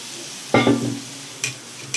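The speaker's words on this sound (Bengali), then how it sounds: "এই যে ফোড়নে দিয়ে দিলাম ডালটা" Matar dal is dropped into hot tempering with a sudden loud sizzle that quickly fades, followed by two short scraping stirs of the spoon, with no talking.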